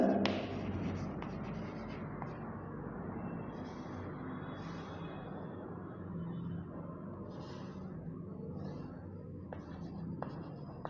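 A steep curve is drawn on a classroom board, heard as a continuous close scraping stroke with a low, murmuring voice underneath.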